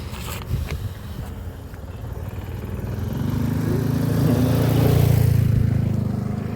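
A motorcycle engine hums near rice fields, swelling into a louder, steady drone over the second half with a rough low rumble and no voices over it.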